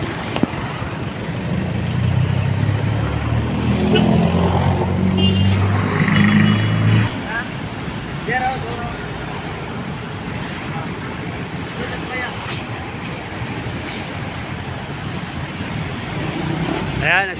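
Steady road traffic in Butuan City with cars and taxis passing, a continuous wash of engine and tyre noise, with a heavier rumbling vehicle close by early on that then fades into the ongoing street din.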